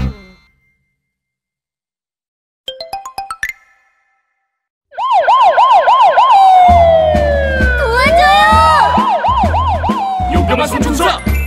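A wailing police-car siren sweeps up and down repeatedly in a bright, loud children's song passage, preceded by a few quick chiming notes.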